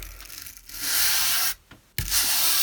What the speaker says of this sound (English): I'm going to take a wire brush and use the wire brush just to kind of